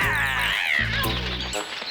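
Cartoon cat gives a drawn-out, wavering meow that bends up and down in pitch, with a low hum of background music beneath it.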